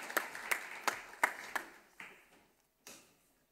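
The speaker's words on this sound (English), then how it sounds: "let's give a round of applause to the 12 who've already made it this far" A small audience at a journalism teaching event gives sparse, scattered applause: a handful of distinct claps at uneven intervals that thin out and fade to near silence.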